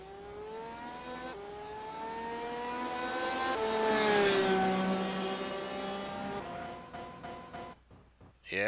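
A race car engine in a Le Mans racing video game screams through rising gear changes, swelling louder toward the middle before dropping off, with a few clicks at the end.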